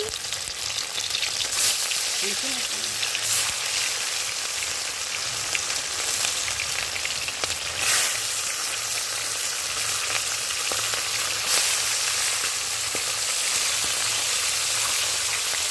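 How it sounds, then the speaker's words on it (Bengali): Small fish fry in oil over a clay stove, a loud continuous sizzle with scattered pops and stirring scrapes, close by and with no one speaking. "উনুনে মাছ ভাজা করছি"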